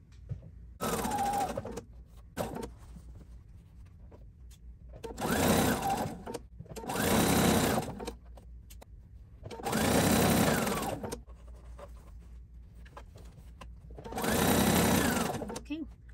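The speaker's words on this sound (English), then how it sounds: "Just going to do a fixed stitch and sew all the way around and do a back stitch or a fixed stitch at the end." A sewing machine stitches around a T-shirt dress applique in five loud, whirring bursts of one to two seconds each, separated by quieter pauses; someone talks softly between the runs.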